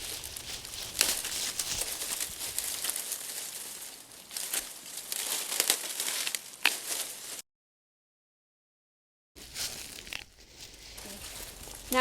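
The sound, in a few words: cutting back overwintered herb stems with a bigger tool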